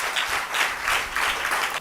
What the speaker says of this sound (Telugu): చప్పట్లు గట్టి కొడదామా దేవుని స్తోత్రం.